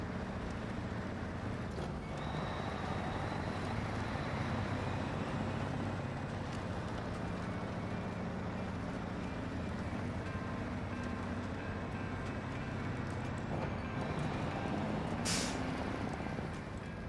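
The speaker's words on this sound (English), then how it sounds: "Plus the sound of this truck is amazing." Heavy truck hauling a long trailer in the SnowRunner video game, a steady low engine drone running on with no break and no talk, with a brief hiss of air partway through.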